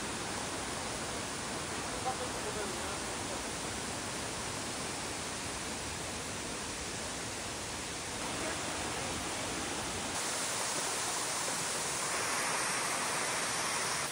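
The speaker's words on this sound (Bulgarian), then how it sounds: "Но важното е, че водопада е тук, аз съм под него." A waterfall pours over rocks, heard from close beneath it as a loud, unbroken roaring hiss that fills the whole scene for the full length.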